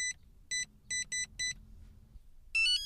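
Keypad beeps ring out as a secret code is entered to start an electric car: five short, clear electronic tones in an uneven rhythm, then a longer multi-tone chime, all over a quiet cabin hum.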